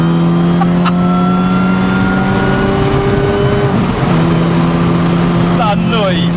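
A supercharged Mini Cooper S R53 engine revs and accelerates steadily, its tone climbing in smooth harmonic sweeps, loud and close, with a brief gear shift partway through.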